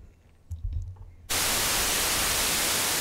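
Noise oscillator of a Therevox ET-4.2 synthesizer switches on abruptly after a few faint low knocks, becoming a loud, steady broadband hiss that holds without changing pitch to the end.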